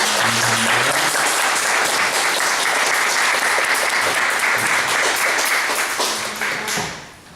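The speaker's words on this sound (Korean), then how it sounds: "오랜 시간 동안 이 칸타타를 준비하고 노력한 우리 할렐루야 찬양단에게도 우리 감사의 박수 하겠습니다" A church congregation applauds its choir after a cantata, a loud, close, sustained roll of clapping that keeps up for several seconds, then quickly thins out and fades away at the very end.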